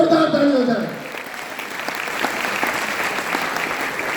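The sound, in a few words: audience applause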